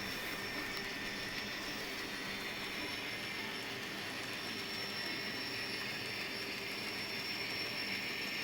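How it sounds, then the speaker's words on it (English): An Amtrak train, likely a model layout, rolls into a terminal on a reverse loop, giving a steady, faint, continuous rumble with high wheel whine and hiss running throughout, with no voices. "Right now we have the Amtrak coming into the terminal."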